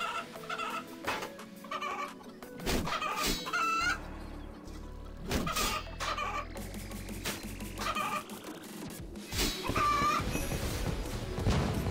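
Chickens in the video game RuneScape cluck and squawk repeatedly in clear, close bursts, with a couple of higher crowing calls mixed in over a game background.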